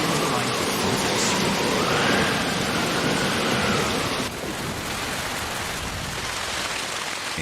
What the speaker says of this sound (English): By the end of December, the rain will arrive with full force.